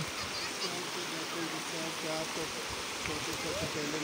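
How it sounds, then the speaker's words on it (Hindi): Clear river water flows along the Siran River near a village in Mansehra, a steady broad rushing wash heard beneath someone talking continuously over it. "बहुत खूबसूरत नदी है बिल्कुल साफ साफ पानी है"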